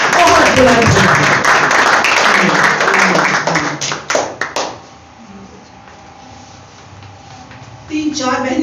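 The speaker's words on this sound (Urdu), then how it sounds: "زوردار تالیاں بجائیں" Loud clapping from a church congregation after worship at a Christmas service, dense and sustained for about four seconds with music and voices mixed in, then cutting away to a quieter stretch.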